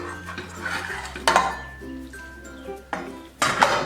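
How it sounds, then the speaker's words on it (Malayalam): Beef pieces are dropped into a pressure cooker, with a few metallic clinks and scrapes of a utensil against the pot and soft rustling between them, close and moderately loud. "ഈ ബീഫ് ഈ കുക്കറിലേക്ക് ഇട്ട് കൊടുക്കാം"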